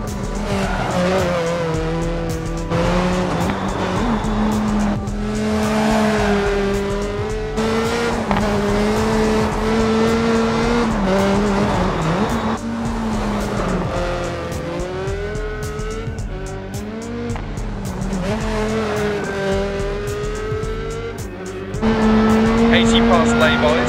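Hyundai rally car racing flat out in Dirt Rally on the Waldaufsteig stage in Germany, its engine droning loud and continuous with rising and falling revs and tire skids, a co-driver's voice calling notes over it throughout.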